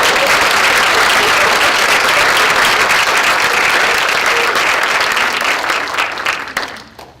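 An alumni weekend lecture audience on a college campus applauds loudly and steadily with dense, sustained clapping, then tapers off and fades over the final second.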